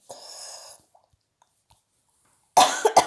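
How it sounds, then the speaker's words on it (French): A short burst of coughing close by, two or three rough hacks in quick succession after a quiet pause, following a brief stretch of breathy noise. "Je tousse"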